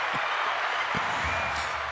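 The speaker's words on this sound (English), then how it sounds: "Yeah, let's get some applause." Studio audience applause on a podcast, a steady, fairly loud wash of clapping sustained throughout with a few low thumps beneath.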